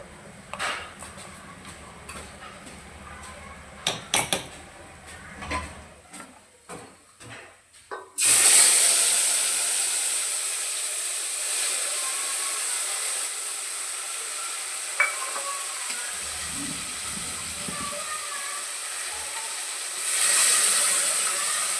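Spice masala roasts in a hot pan while kadhi is being cooked. Some utensil clanks and scrapes come first, then a loud, steady sizzling hiss takes over and carries on to the end without talk.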